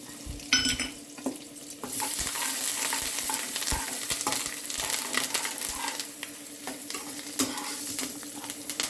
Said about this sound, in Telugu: తర్వాత కరివేపాకు వేద్దాం అంతే